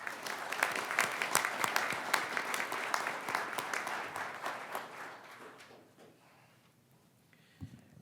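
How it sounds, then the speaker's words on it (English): An audience at a commencement ceremony claps in a sustained round of applause that gradually thins and fades away, followed by a few faint bumps. "Let's give one last round of applause for our emeritus recipients."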